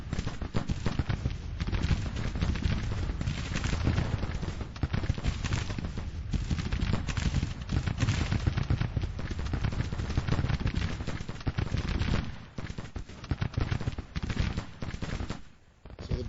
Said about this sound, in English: Batteries from Cooper's artillery reserve are able to get some fire on the Union attack